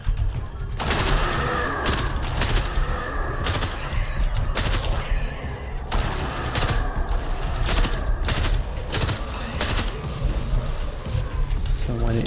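Rapid, loud enemy gunfire crackles in dense bursts throughout a STRAFE shooter game firefight, layered with continuous game noise and no clear pauses.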